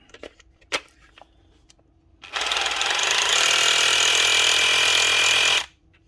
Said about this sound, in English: Now back to screwing.